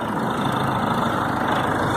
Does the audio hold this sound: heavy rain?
no